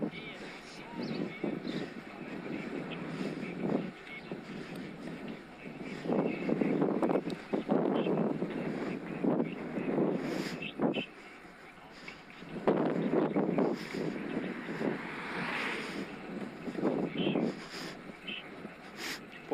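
Headwind buffeting the microphone of a rider on a Scott Addict RC road bike, with loud, irregular gusts that rise and fall in bursts over a faint background and no clear voice.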